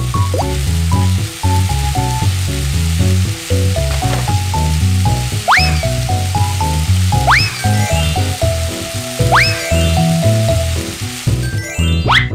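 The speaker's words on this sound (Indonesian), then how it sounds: "Waktunya menggoreng ham sapi." Beef ham sizzling in a pan in a Baby Bus kids' cooking game, a steady frying hiss under bright, bouncy game music with rising chime effects, no voices.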